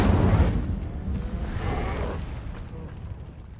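A fire spell cast in Hogwarts Legacy, heard as a heavy, rumbling whoosh of flame that swells at the start, flares again briefly, and then fades away, with no voices.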